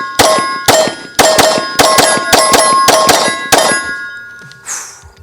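A Ported Hellcat Pro compensated pistol fires about eight sharp, loud reports in a quick, uneven string, each with a bright metallic ring, with no talking.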